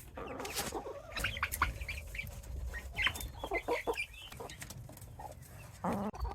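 Young chickens cluck and chirp in their pen in the evening, a steady mix of close, overlapping clucks and peeps with no talking.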